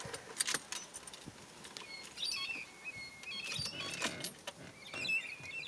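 A key jingles and turns in the ignition of a BMW 733i, with faint metallic rattles and small clicks, quiet and close inside the car.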